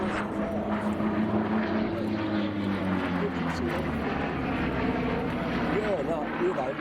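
A Bearcat propeller fighter flies overhead at the Duxford air show, its piston engine droning steadily and shifting in pitch as it passes, heard under a commentator talking throughout.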